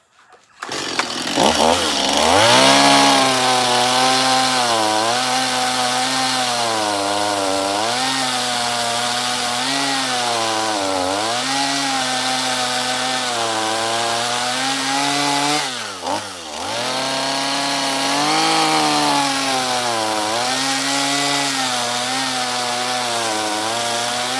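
A chainsaw carves pumpkins, the engine droning loud and close for the whole stretch, rising and falling in pitch as it bites and revs, with a brief dip partway through and no speech.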